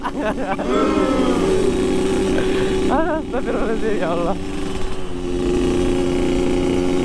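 A Yamaha RX King two-stroke motorcycle engine runs loudly nearby at a street meetup in Makassar, blipping and revving with raspy buzzing over a steady idle, while someone speaks briefly over the noise.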